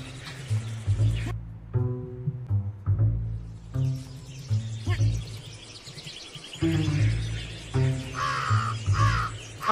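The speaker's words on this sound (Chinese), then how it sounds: "那边是乌鸦" A crow caws repeatedly in the video game Ant Inventor (蚂蚁发明家), a series of harsh, evenly spaced calls over music and game effects, with a voice talking at times.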